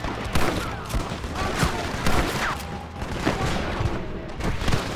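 Rapid, dense gunfire rattles through a Red Dead Redemption gameplay firefight, with shots crackling continuously and loudly across the whole stretch and a voice briefly audible beneath.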